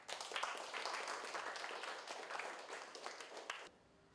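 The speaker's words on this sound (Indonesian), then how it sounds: "Mari beri tepuk tangan atas jawaban yang telah diberikan pada teman-temanmu" Students in a physics classroom clap together in a dense, lively burst that holds steady, then cuts off abruptly near the end into near silence.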